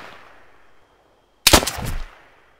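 Gunfire in the military shooter ArmA 3: after a moment of near silence, a sharp loud burst of several rapid shots rings out, then trails off.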